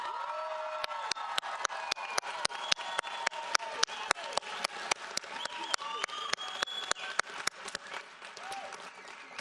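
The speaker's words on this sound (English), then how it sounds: "please join me once more in applauding these fine young scholars and graduates" Audience applause at a 2019 School on Wheels high school graduation ceremony, with dense sustained clapping and sharp, regular rhythmic claps cutting through a steady crowd roar across the whole stretch.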